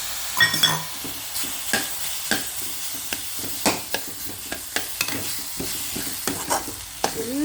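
Semolina and tomato for vegetable uppittu frying in a pan, a continuous low sizzle broken by regular sharp scrapes and taps of a spoon stirring against the pan, close and fairly loud.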